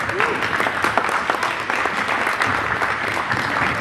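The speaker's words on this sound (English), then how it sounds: "Give her a round of applause." A crowd at a tribal assembly in Taholah applauds a speaker, with steady dense clapping filling the whole stretch and a few faint voices mixed in underneath.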